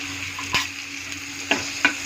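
Onions frying with panch phoron spices in a pan, a constant close sizzle broken by three quick stirring scrapes and clinks, with no voices.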